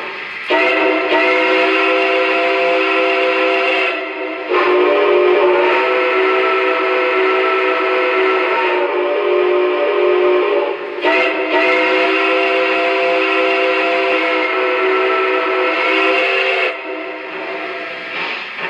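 A Lionel 115th Anniversary Berkshire 2-8-4 model steam locomotive sounds its steam whistle in several long, loud blasts with brief breaks between, steady and close, with no talking.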